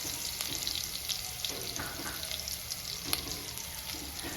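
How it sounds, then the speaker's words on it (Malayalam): Fenugreek seeds and thinly sliced ginger fry in oil in a pan for a Kerala-style fish curry, giving a constant soft sizzle with faint crackles and no voices. "ഉലുവ നന്നായിട്ട് മൂത്ത് വരുന്ന സമയത്ത് നമുക്ക് ഒരു ടീസ്പൂൺ ഇഞ്ചി അരിഞ്ഞത് ചേർത്ത് കൊടുക്കാം"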